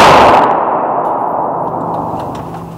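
A Faxon ARAK-31 rifle fires indoors on a show-floor range: one loud, sharp report at the start rings out and decays slowly through a long metallic, reverberant tail.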